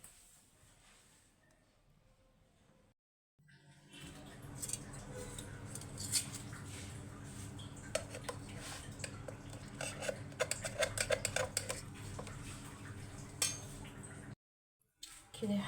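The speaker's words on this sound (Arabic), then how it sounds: "هنحط الصينية بتاعتنا بقى في قلب الفرن" A metal baking tray of homemade fatayer pastries slides into a hot oven set to its highest temperature, with faint clinks, rattles and scrapes of metal in a quiet kitchen and no talking.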